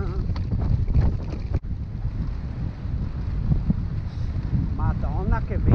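Strong wind on a mountain in the Apuan Alps, Italy, roars and buffets the microphone continuously, with a brief dropout partway through and faint voices in the background.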